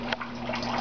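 Soft, steady trickle of maple sap running from tubing lines into a barrel, a faint continuous watery dribble over a low steady hum.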